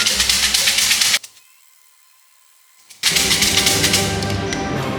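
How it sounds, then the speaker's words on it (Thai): Thai seam si fortune sticks rattled in a cylinder to draw a number at a temple in Udon Thani, a dense, loud clattering that breaks off into near silence for about two seconds, then resumes just as loud. "เดี๋ยวจะมาเสียงเซียมซีกันนะคะ"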